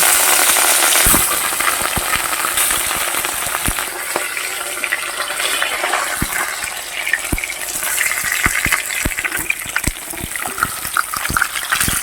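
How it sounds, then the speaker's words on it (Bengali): Katla fish sizzling in hot oil in a wok over a stove, a loud continuous crackling hiss with scattered sharp pops and spits throughout. "এইবার তেলটা ঢেলে দিচ্ছি, মাছটা ছেড়ে দিচ্ছি।"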